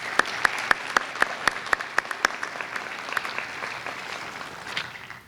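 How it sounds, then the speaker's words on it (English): An audience at a college commencement ceremony applauds, a steady patter of many hands with sharp close claps at first, then a softer crowd clapping that thins out toward the end. "Let's offer them a round of applause."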